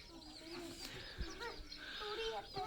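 Hen sitting with her chicks gathered beneath her, giving soft, low clucks through a steady background of chirping and light farmyard noise, close and fairly quiet.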